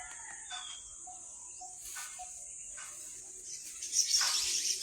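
Birds, including a rooster crowing and fowl clucking, call from a quiet outdoor spot with trees, over a high steady insect drone, the calls growing louder toward the end.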